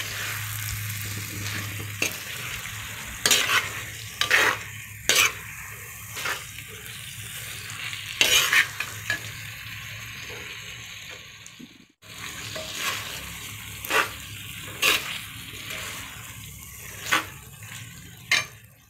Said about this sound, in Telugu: బాగా ఎగ్స్ గ్రేవీ బాగా మిక్స్ చేసుకోవాలి మెల్లగా ఎగ్స్ విడిపోకుండా మిక్స్ చేసుకుంటూ ఉండాలి